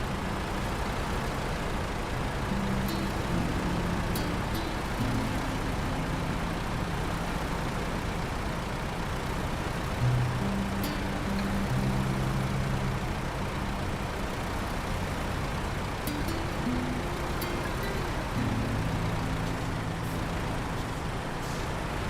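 Truck engines in the video game Snowrunner, on hard mode in the Amur region: a steady, low rumbling drone throughout, with occasional brief hisses and clanks, and no talking.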